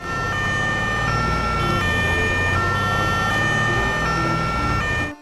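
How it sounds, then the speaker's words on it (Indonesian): A toy ambulance sounds its siren, a steady, loud electronic wail of stacked tones with pitch steps, playing alone close by for about five seconds. "Wow, mobil ambulans."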